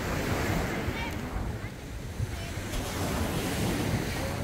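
Sea waves roll and wash continuously onto a beachfront at high tide in San Juan, Batangas, a broad steady surf roar mixed with wind buffeting the microphone, no clear talk.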